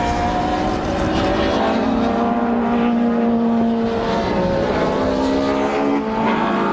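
Race cars in a Classic and Thunder race at Brands Hatch circuit: a loud, sustained roar of several engines at high revs with overlapping whining tones, steady throughout and with no voices.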